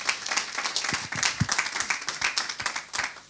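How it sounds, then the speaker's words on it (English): Brief clapping from a small audience at the end of an academic finance seminar session, individual claps distinct and uneven, close and moderate in level, lasting a few seconds. "Je pense qu'on peut les applaudir tous les deux."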